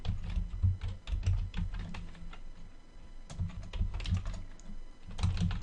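Typing on a computer keyboard: a steady run of soft, close key clicks with irregular rhythm, fairly quiet and alone.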